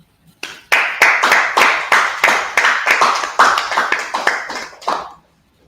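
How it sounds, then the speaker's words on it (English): A group claps together in a fast, loud, regular rhythm, each hit sharp and close, running for about four seconds before stopping abruptly. "let's clap it up"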